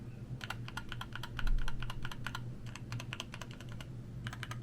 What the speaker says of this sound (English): I recorded myself pressing the keys so that you could get an idea of how it would sound.